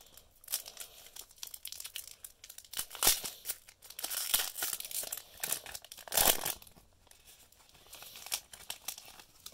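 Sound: tearing open Pokémon Rebel Clash booster pack wrapper

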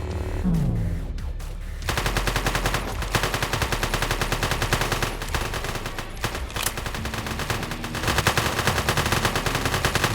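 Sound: gunfire hitting the player in a video game

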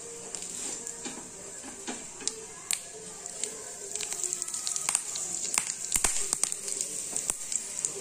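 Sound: tempering seeds and asafoetida frying in oil

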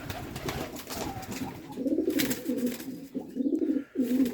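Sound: pigeons cooing

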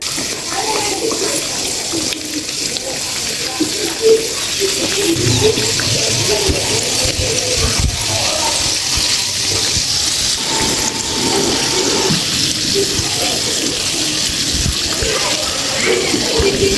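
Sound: singaras (samosas) deep frying in oil

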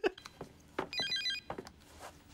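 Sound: telephone ringing

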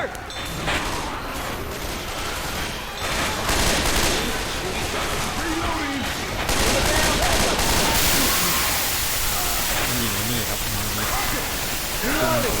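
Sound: gunfire in video game Left 4 Dead 2

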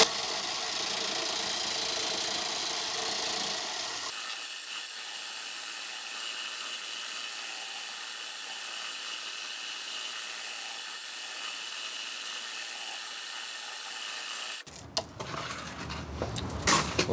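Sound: drain cleaning chain spinning inside PVC pipe

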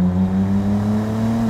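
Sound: Bentley Continental GT W12 engine accelerating

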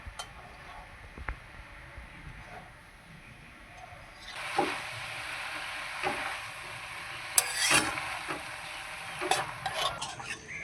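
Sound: stirring spinach into a vegetable curry

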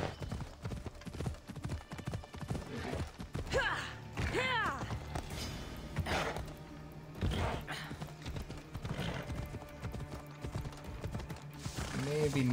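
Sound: horse hooves descending a hill, video game Assassin's Creed Odyssey

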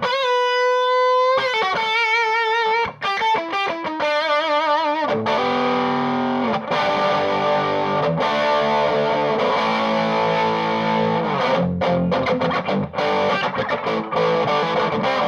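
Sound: electric guitar (Junior) played with distortion

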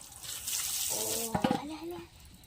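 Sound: water running from tap to fill Holi water balloons

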